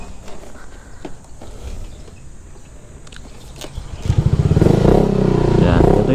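A motorcycle fitted with a silencer exhaust pipe idles with a low rumble, then revs up loudly and roughly near the end, with its pulsing exhaust note close by.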